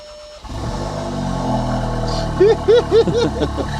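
A VW Golf R engine cranks and catches, settling into a steady rumble, then gets four quick, punchy revs in a row.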